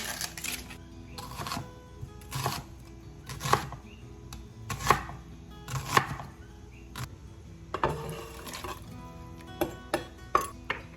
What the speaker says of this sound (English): I forgot that I already have to cut up onions anyway, so we're gonna do that